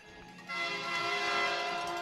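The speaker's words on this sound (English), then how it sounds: "Crowd's going to give up some air horn love to them here" Loud sustained air horn blast at a hockey arena, rising in strength after a brief lead-in and holding steady with a rich, layered tone over crowd noise.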